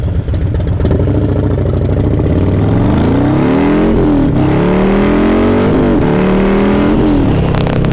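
A Harley-Davidson 131 motorcycle engine revs hard and accelerates, very loud and close, with rising and falling engine pitch through repeated gear changes.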